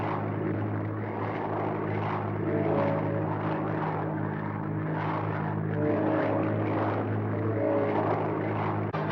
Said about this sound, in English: we cut back to Joe flying his airplane